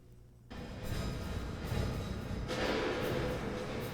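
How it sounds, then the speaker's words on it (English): A dense, wide wash of reverberant sound from a Bricasti reverb swells in after a brief quiet start, sustaining a bright, cathedral-like tail throughout with no talking. "what you're hearing is a Bricasti reverb"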